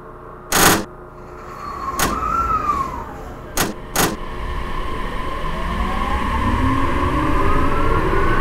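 Train doors in a train simulator game slide shut with a pneumatic hiss and several sharp clunks, followed by a rising electric motor whine as the train pulls away.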